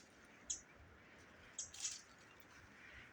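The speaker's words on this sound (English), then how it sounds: "You hear that bird?" A small bird calls from hidden bushes in a dark, wooded spot at early morning, giving a few faint, short high chirps spaced apart over a quiet background hiss.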